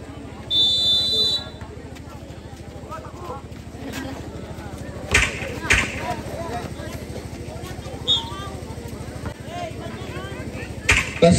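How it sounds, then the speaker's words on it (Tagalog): Scoreboard buzzer at an amateur under-25 barangay basketball championship game, a loud sustained electronic tone near the start, followed by ambient crowd and court noise with occasional sharp peaks. "buzzer lang po yan"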